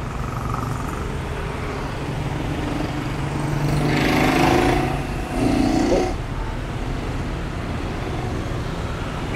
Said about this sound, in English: So the traffic will be going everywhere as per normal.